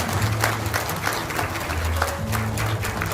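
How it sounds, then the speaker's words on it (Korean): An audience applauds at a Korean commemorative inauguration ceremony, a steady, dense patter of many hands clapping throughout, with faint voices underneath. "다시 한번 큰 박수 부탁드립니다"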